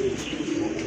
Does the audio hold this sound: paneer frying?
no